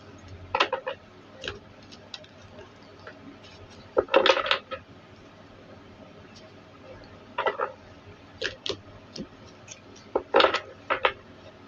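Tarot cards being shuffled by hand, several short bursts of riffling and clicking cards separated by quieter pauses, close and crisp, with faint room noise between.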